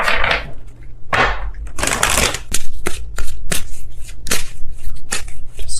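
Tarot cards are shuffled close up: crisp riffling bursts followed by a run of sharp flicks and taps, loud and alone.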